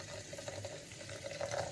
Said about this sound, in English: Adding the hot water now.